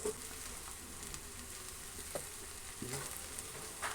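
Eggplant thoran with turmeric powder and salt being stirred in a pan, a quiet continuous sizzle broken by a few soft scrapes and clicks of the spoon, no talking.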